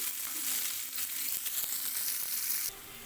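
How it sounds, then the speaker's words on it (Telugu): Chopped onions fry in hot oil in a pan. A close, steady hiss and crackle runs throughout, then drops in level just before the end. "ఆనియన్స్ అయితే వేసుకున్నాను మనకు ఆనియన్స్ అనేవి కొంచెం కలర్ చేంజ్ అయ్యే వరకు వేగనివ్వాలి"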